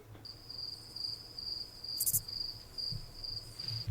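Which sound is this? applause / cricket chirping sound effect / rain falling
cricket chirping sound effect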